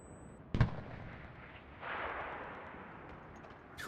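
A single sharp, loud artillery blast in the shooter Enlisted, followed after a pause by a broad rushing rumble that swells and slowly fades, with faint scattered background noise.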